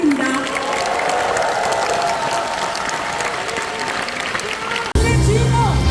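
A large crowd applauds and cheers at a Korean political party's national convention, dense continuous clapping in a big hall for about five seconds before cutting abruptly to louder amplified sound.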